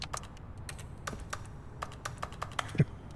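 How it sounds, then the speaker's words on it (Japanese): Computer keyboard keys pressed repeatedly while playing The Stanley Parable: Ultra Deluxe, a steady run of sharp, close clicks and taps at an uneven rhythm over a low background hum. "これ空振りしてもさキーボードの音なるからめっちゃ押してるの分かるんだけど"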